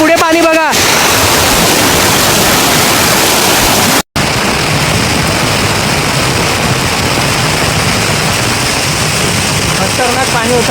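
Bokadkada waterfall sends rushing water in a loud, dense, continuous roar that breaks off for a split second and then returns, with traces of a voice at the very start and end.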